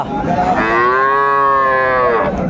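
A cow at a rural cattle market gives one long, loud, drawn-out moo, close by and alone.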